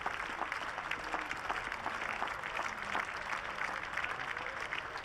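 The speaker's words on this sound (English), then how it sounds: "Let's listen to the applause." A crowd at a Metro Bank One Day Cup cricket match between Sussex Sharks and Leicestershire applauds the departing Sussex skipper: steady, moderately distant clapping that continues evenly for several seconds.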